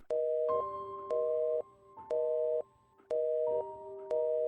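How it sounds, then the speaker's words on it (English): A telephone hang-up tone pulses in a steady rhythm of about five evenly spaced beeps, each roughly half a second long with short gaps, clear and alone with no voices. "I hear the tone you hear when someone hangs up on you"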